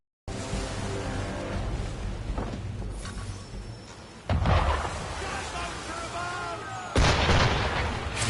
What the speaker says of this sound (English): Why is he shooting at us?